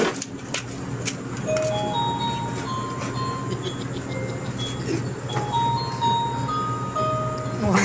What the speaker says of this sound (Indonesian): Bel warungnya ini.